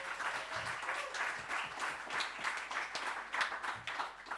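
Audience applause in a forum debate chamber, a steady sustained patter of many hands clapping at moderate distance, filling the whole span without speech over it.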